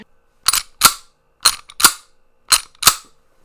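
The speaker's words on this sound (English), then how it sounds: "If you just take the slide on one of these guns and just rack it, it's pretty loud." A .45 ACP pistol slide racked three times, each a sharp, loud two-part metallic clack as it snaps back and then slams forward, with short quiet gaps between the pairs.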